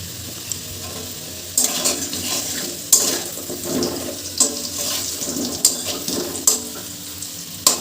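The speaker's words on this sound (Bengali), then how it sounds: "আলুগুলো প্রায় ভাজা হয়ে এসছে।" Potatoes fry in oil with salt and turmeric, giving a close sizzling hiss broken by regular clattering stirs and spatula knocks every second or so, no speech.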